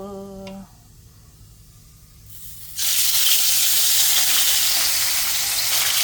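A short tone and a quiet pause, then a loud, sustained sizzle and crackle as fish hits hot oil and keeps frying.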